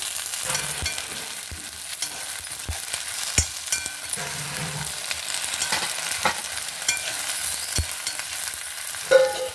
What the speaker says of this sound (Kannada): ಇದನ್ನು ಚೂರು ಫ್ರೈ ಮಾಡ್ತಾ ಇಕೊಂಬ ಹೀಗೆ